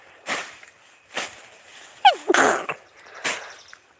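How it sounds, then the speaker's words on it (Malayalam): Several sharp sneezes outdoors, blamed on the smell of freshly cut grass, burst out one after another at close range, with one brief whistling sweep mixed into the third, louder sneeze. "തുടങ്ങിയിട്ടുണ്ട് തുമ്മല്"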